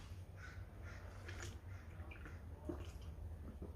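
Crows cawing faintly in the distance over a steady outdoor background hum, several brief calls spread out, with no voices.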